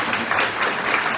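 Steady applause from an audience at a teachers' awards ceremony, a dense wash of many hands clapping at even loudness throughout the short stretch, with no voice over it.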